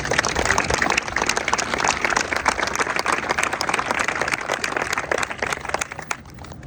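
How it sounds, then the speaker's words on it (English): Audience applause at a structural design and fabrication open house, a broad steady crowd clap that holds strongly then thins out toward the end. "That deserves another round of applause."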